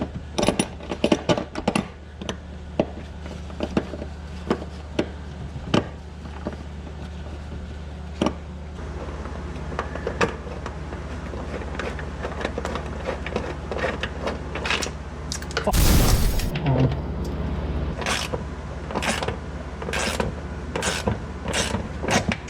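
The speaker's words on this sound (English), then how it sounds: "I just had my friend ratchet the top when I was holding the bottom" Ratchet wrench tightening a lock nut on a harness mount in a Camaro, heard as a run of sharp clicking strokes with brief pauses, close and fairly loud against a low workshop hum.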